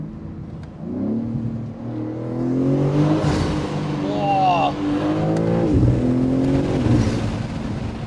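A Manhart MH3 650, a 650 hp tuned BMW M3 Touring, accelerates loudly under a bridge, its engine note rising through gears with a turbo whistle and sharp blow-off chirps; a man briefly exclaims over it.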